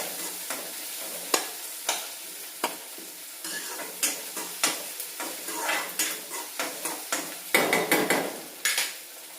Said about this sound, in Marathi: कांदा आणि टॅमॅटो मॅश करून घ्यायचं.